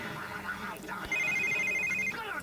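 Telephone in the video game The Sims 3 rings with a bright electronic trill over busy game music and background sound, lasting about a second before fading back into the mix.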